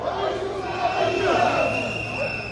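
Protest march crowd in Batumi chanting political slogans, a brief swell of shouted voices heard at a middle distance over a busy crowd murmur.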